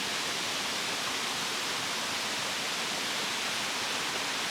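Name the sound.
waterfall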